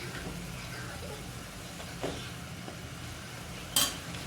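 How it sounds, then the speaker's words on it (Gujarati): A spoon stirs mashed eggplant with spices in a hot pan, a soft ongoing sizzle and scraping with a couple of brief utensil knocks against the pan. "આપણે એને હલાવી નાખશું।"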